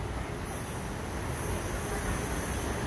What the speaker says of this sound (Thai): รถไฟฟ้าก็ได้เคลื่อนตัวไปแล้วนะครับ